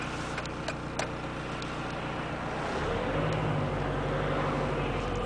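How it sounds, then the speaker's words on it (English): A 2002 VW Beetle TDI with a suspected failing front passenger-side wheel bearing, heard from inside while driving: steady engine and road drone with faint ticks early on, the low rumble swelling after about three seconds. "it is making a low ticking."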